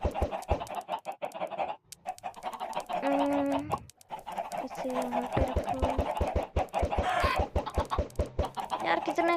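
Chickens clucking in Minecraft, a flock of hens in a hardcore survival world, with repeated short game clucks scattered through the scene while someone talks over them.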